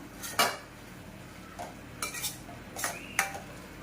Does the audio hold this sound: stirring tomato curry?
yes